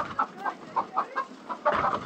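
A chicken clucks in a series of short, separate calls about a quarter second apart, close and moderately loud, ending in a quicker cluster of overlapping clucks.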